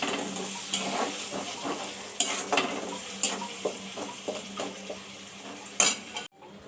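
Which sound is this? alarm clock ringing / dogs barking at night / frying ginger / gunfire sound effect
frying ginger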